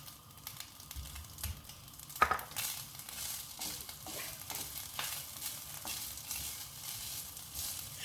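A spoon stirring sugar into warm sweet rice in a pan, giving soft scraping and shuffling with a faint sizzle underneath and one sharp clink of utensil on pan early on.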